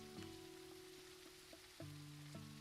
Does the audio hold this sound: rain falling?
yes